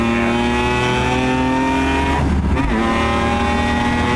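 A car engine revs hard and sounds raspy and tinny, its pitch climbing steadily and then dipping briefly before it holds a loud, sustained high-revving drone.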